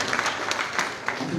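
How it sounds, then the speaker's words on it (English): Crowd applause for the superintendent at a government town hall meeting, a dense, continuous patter of many hands clapping at close range, with no break across the short stretch. "Clap for the superintendent."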